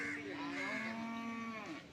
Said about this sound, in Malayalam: പോത്തും കുട്ടികൾ കണ്ടമാനം ഇവിടെ നിൽപ്പുണ്ട്